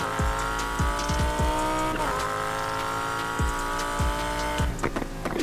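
Supercharged 1965 Ford Mustang racing in Need for Speed Heat, its engine droning loud and continuous with repeated sharp downward-sweeping gear shifts and revs, no talking.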